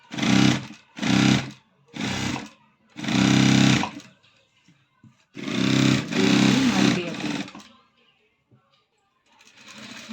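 A sewing machine runs in short bursts while stitching a cross-cut blouse, with three quick runs, a longer one, a pause, then a sustained stretch of loud whirring, and talk in between.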